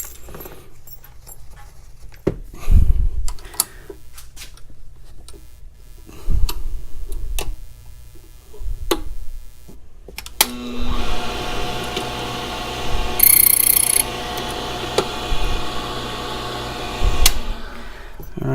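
A Commando padlock key blank is cut by hand, giving a series of scattered scraping and tapping strokes, then a steadier, denser run of filing noise with a faint high whine, all fairly close with no talk.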